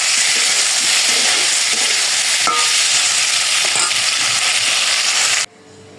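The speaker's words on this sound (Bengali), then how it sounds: "টমেটো দিয়ে কষিয়ে নিচ্ছি।" Tomatoes being sautéed in a pan give off a loud, steady frying sizzle with scraping stirs, which drops away sharply near the end.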